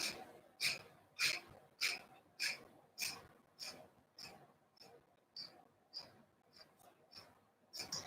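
Kapalabhati yoga breathing: a quiet, close series of about fourteen sharp, forceful exhales through the nose at a steady pace of roughly one every half second, each a short hissing puff.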